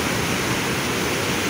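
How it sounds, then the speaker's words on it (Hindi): A stream of muddy water flows along a path near a mountain temple in Kangra, Himachal Pradesh, giving a dense, steady rushing wash with no breaks and no voices over it. "ये कितना पानी, अब कितना पानी, मतलब गंदा सा पानी आया"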